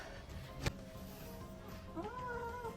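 A cat meows and wails during a bath, with a sharp knock early on and a drawn-out, rising and falling cry near the end over faint background noise.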